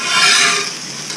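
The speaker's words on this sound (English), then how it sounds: "slide these around with a regular spatula" Food sizzling on a hot grill griddle with a little sugar added, a regular spatula scraping and sliding it around; a close, steady hiss and rasp lasting about a second.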